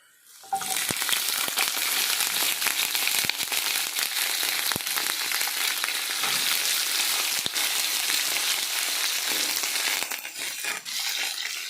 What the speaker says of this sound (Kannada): ಈಗ ನೆಕ್ಸ್ಟ್ ಇದು ಬದ್ನಿಕಾಯಿ ಮತ್ತು ಉಳ್ಳಾಗಡ್ಡಿ ನೀರು ಹಾಕಿ ಇಟ್ಕೊಂಡೇನಲ್ಲ, ಇವನ್ನ ಎಲ್ಲ ಸೇರಿಸಿ ಹಾಕ್ಬಿಡ್ತೇನೆ. ಹುರಿತೈತಿ